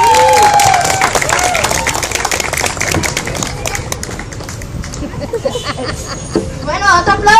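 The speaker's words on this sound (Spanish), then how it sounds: "un aplauso para ellos" An audience at a storytelling event applauds, a dense crackle of clapping that runs through the whole clip, with voices talking over it.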